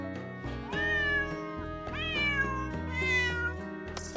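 Cartoonish cat meows from a video game, several distinct sliding calls in a row over bright, tinkly background music, loud and clear with no talk.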